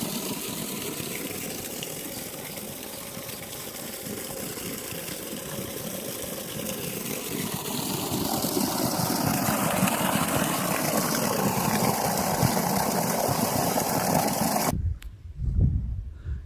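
A 5HP solar water pump gushing water out of a 1.5-inch pipe, a loud sustained rushing pour over a low motor drone that builds midway, then cuts off abruptly near the end.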